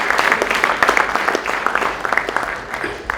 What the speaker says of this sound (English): So you all deserve a round of applause and congratulations